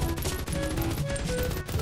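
Rapid automatic gunfire from a machine gun in the video game Mini World, a dense, steady burst of repeated shots running loud and continuous throughout with no talking.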